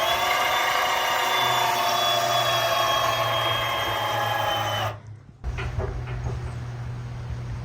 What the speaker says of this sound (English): I'm going to hook it to my harness and winch myself up with this guy.